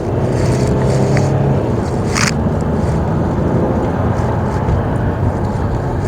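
A Jaguar X350 saloon with a 2.7 diesel engine, all-aluminium body, accelerating hard in sport mode; a loud, steady engine and road roar fills the whole stretch without a break.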